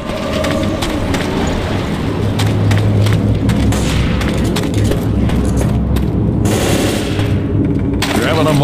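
Left 4 Dead gameplay on PC with loud, sustained gunfire, rapid automatic bursts and booming shots layered over constant rumbling action noise.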